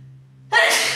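One sharp, close sneeze bursts out suddenly after a brief quiet hum.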